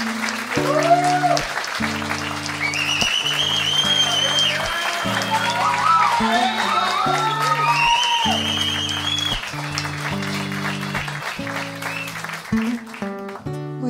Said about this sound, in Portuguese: para a gente aplaudir muito